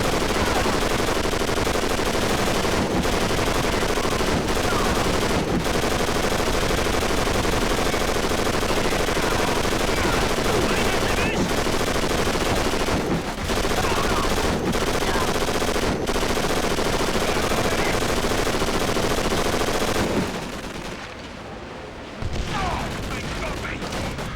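Dense, continuous gunfire from the PS2 game Call of Duty: Final Fronts, rapid machine-gun bursts and booming shots layered over battle noise, loud throughout, then thinning out briefly near the end.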